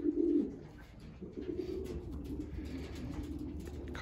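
Pigeon cocks in an outdoor aviary on a sunny day, giving soft, low cooing calls, one close coo at the start followed by quieter continuing coos at moderate distance.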